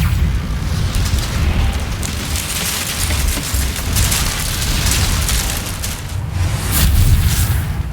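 The Incendio fire spell roars out in Hogwarts Legacy, a sustained, loud, close whooshing rumble of flame with booming bursts that churns steadily for several seconds.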